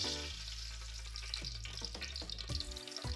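Fenugreek seeds fry in hot oil in a kadai for a Nellore fish curry, a steady close sizzle with a few faint clinks and stirring sounds.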